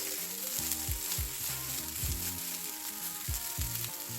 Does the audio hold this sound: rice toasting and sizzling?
yes